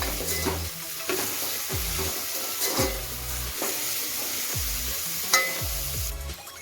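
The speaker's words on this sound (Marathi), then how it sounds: "चांगलं ढवळून घेऊया आता कांदा आपला पूर्ण मऊ झाला पाहिजे" Softened onions being stirred in a hot pan for pav bhaji, with repeated scraping strokes of a spoon about once a second over a steady close sizzle of frying, no voices.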